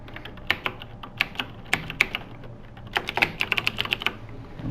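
Fingers type a password on a computer keyboard, a close run of crisp, uneven key clicks that comes in short bursts with brief pauses and speeds up near the end, with no voice over it.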